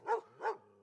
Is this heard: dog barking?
yes